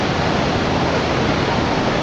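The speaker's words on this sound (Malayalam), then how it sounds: "ഇവിടെ അടിപൊളി വാട്ടർഫാൾസ് ഉണ്ട്." A waterfall in Munnar gives a steady, dense roar of falling water that holds at an even loudness throughout, with no voices.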